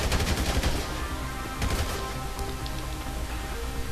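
In Grand Theft Auto V, rapid gunfire erupts while enemies are shot, with a dense burst of loud shots at first, then sparser cracks over a steady background din.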